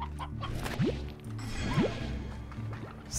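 Chickens and roosters cluck in the video game Slime Rancher, a few clucks and rising squawks over a steady low game background hum, fairly close and moderately loud.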